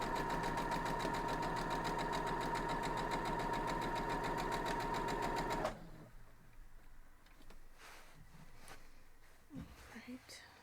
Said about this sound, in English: Now we're just going to go back through and sew the second half